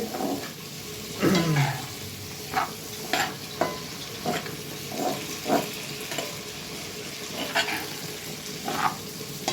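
Food frying in a pan while being stirred, with scraping strokes recurring every second or so over a steady sizzle; close and fairly loud, no talking.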